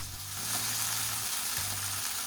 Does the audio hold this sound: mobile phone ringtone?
no